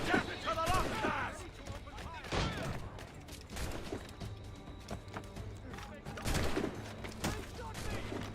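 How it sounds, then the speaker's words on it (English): Gunfire from a naval battle in the video game Assassin's Creed Rogue, with repeated heavy bursts and volleys rising and falling over a dense, busy background while voices shout. "They're shooting back! Reload! Reload! Ready to open fire!"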